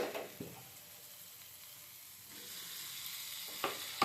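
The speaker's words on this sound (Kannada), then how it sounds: "ಸೊ ನೀಟಾಗಿ ಫ್ರೈ ಮಾಡ್ಕೊಳ್ಳಿ, ಬ್ರೌನಿಶ್ ಆಗಿ ಬರುತ್ತೆ" Diced onion frying in a pan over medium heat, a steady soft sizzle with a few brief stirring scrapes, sounding close and fairly quiet throughout with no talking.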